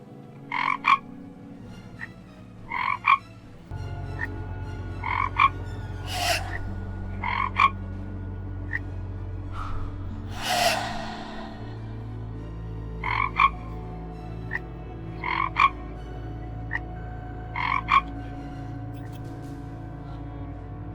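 Repeated frog croaks in a steady rhythm, short bursts every second or so over a low continuous hum, fairly close and clear.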